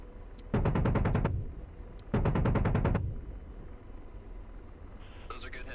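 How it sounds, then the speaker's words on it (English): Two loud, rapid bursts of cannon fire from an AH-64D Apache helicopter in DCS, each lasting under a second, over a constant rotor and engine drone. "and utilize my cannon"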